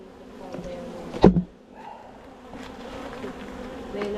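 Honeybees buzz around a hive during a November inspection at an apiary, a steady close hum with a brief louder knock partway through and no talking.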